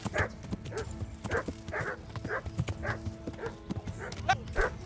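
Dogs bark repeatedly in the medieval video game Kingdom Come: Deliverance, a steady series of sharp yaps spaced about half a second apart alongside horse hoofbeats while riding, fairly close and without talk.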